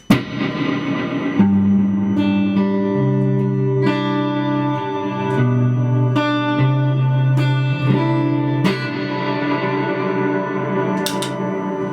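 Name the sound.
guitar with reverb pedal effect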